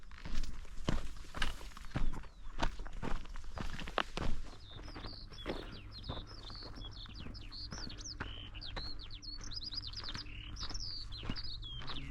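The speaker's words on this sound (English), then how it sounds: "And that skylark." Footsteps crunch along a coastal path on the Purbeck coast, then a skylark takes over with a continuous, high, twittering song. The bird sounds moderately distant against a quiet, open background.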